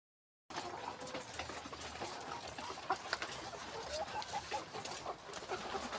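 Laying hens in a poultry house at about 106 days old, with scattered clucking from many birds over a steady barn background hum, fairly quiet and continuous.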